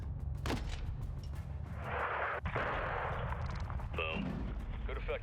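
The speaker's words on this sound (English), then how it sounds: "switch to the 40mm cannon and just bomb the gate" Heavy 40mm cannon fire bombing a blocked gate in Call of Duty Modern Warfare 2 (2022), with dense rumbling blasts and crackling explosions under constant battlefield noise, and a sharp transient near the middle.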